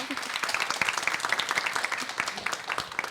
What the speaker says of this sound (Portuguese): Salva de palmas para Tabata Amaral